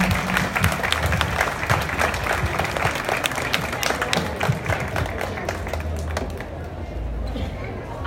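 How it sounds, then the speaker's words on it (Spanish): An audience at a Mother's Day celebration in Sahuayo claps in sustained, crowded applause. The clapping is loud and close throughout, with a few voices in the crowd. "Un aplauso."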